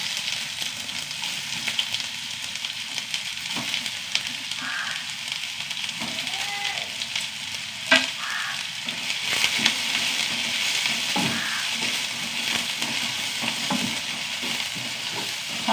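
Finely chopped onions frying in coconut oil with mustard seeds, a steady close sizzle broken by stirring scrapes and occasional sharp clicks and pops.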